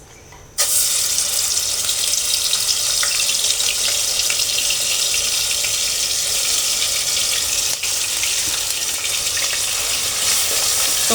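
Ginger, garlic and onion paste hits hot oil with a sudden loud hiss that settles into a steady, dense sizzle, continuing evenly for several seconds with one brief dip partway through.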